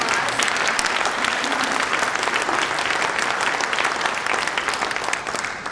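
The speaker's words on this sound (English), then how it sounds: "I can pause for a round of applause" A university audience breaks into dense, sustained applause at a major gift announcement by the school's president, loud and even from start to finish with a slight taper at the end.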